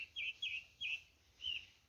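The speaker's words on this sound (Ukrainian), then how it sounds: "Пташки співають, виспівують" Small birds chirp and tweet in short bright bursts, a few quick calls spaced apart over a quiet background.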